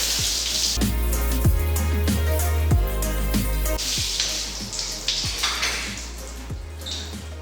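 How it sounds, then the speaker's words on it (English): A garden hose sprays water over marble bathroom tiles, a steady close hiss and splash with scattered drips and knocks, no talk over it. "I'm just gonna grab my hose and I'm just gonna rinse out everywhere really quickly"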